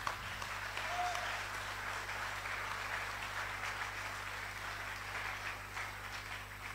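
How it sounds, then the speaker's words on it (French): Audience applauding at a talk in France, a steady wash of clapping that holds at moderate level for several seconds, slightly distant, with faint background murmur. "Et vous pouvez les applaudir."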